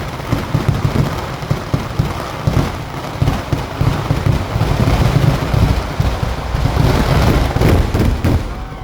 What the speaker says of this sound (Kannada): ವಿಟ್ಲದ ಪಟಾಕಿ ಅಂದ್ರೆ ವಿಟ್ಲದ ಬೆಡಿ ಅಂತಾನೆ ಫೇಮಸ್. ಅಷ್ಟು ಜೋರಾಗಿರುತ್ತೆ ನಮ್ಮ ಪಟಾಕಿ ಸೌಂಡು.